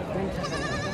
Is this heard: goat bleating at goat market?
yes